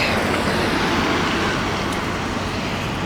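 Dense road traffic roars steadily near Reversing Falls, a constant broadband wash of passing vehicles at close range with no breaks.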